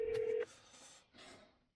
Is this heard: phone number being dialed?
yes